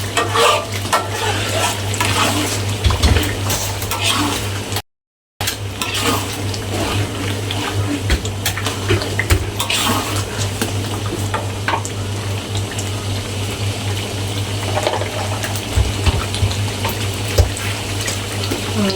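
Onions are added to a hot pan and fry for sambal tumis, a loud, steady sizzle with stirring and scraping against the pan that continues throughout, close up, with no talk and a brief gap of silence.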